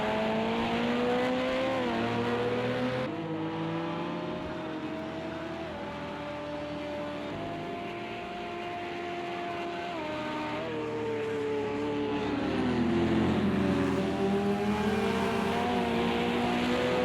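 Race cars, among them Porsches and a Corvette, lapping Daytona in a 2.4-hour sim race, several engines droning and shifting pitch as they pass and accelerate, loud and continuous with rising revs near the end.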